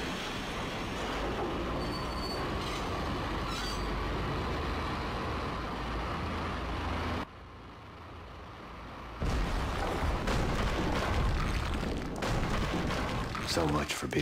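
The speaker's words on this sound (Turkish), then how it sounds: "Treni çalıştırdık herhalde." Train running in the video game Max Payne, a loud steady rumble of wheels on rails with metallic screeching and clatter, briefly cutting out near the middle before returning louder.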